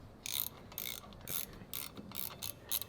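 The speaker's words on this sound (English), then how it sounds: "The nice part about these Nylocks is that they hold enough resistance so that way you can ratchet without a problem" A ratchet wrench tightens Nylock nuts in a rapid series of close, crisp clicking bursts, roughly eight strokes in quick succession.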